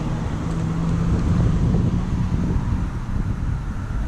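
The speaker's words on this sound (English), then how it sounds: "Oh, there's a gust." Steady rushing wind buffets the microphone with a low rumble, swelling slightly midway before easing off.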